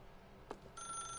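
A telephone starts ringing in the video game The Stanley Parable, a bright electronic trill that begins partway through and holds steady after a brief click, fairly close and clear.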